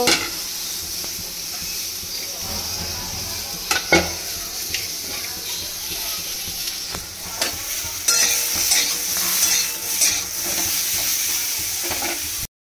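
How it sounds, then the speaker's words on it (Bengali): Pointed gourd (potol) pieces fry in hot oil in a pan, a steady close sizzle broken by occasional stirring scrapes and clinks, growing louder and busier in the second half; no speech. "মানে পটলগুলো আগে ভেজে তুলে নিয়ে তারপর আলুটা ভাজবো, তারপর সয়াবিনটা ভাজবো।"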